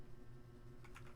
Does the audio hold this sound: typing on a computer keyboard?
yes